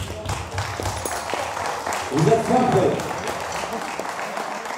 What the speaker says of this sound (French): je pense qu'on peut vous applaudir bien fort